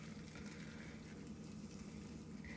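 Hot water poured steadily into a bowl of MAMA pork-flavor instant noodles, a continuous faint splashing trickle running for a few seconds with no talking.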